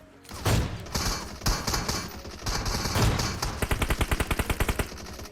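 Gunfire in the mobile battle royale game PUBG Mobile comes as loud bursts of automatic shots and then a fast rhythmic string of single cracks near the end.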